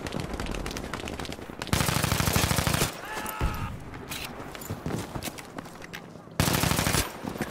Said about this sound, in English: Oh, I just got shot from behind.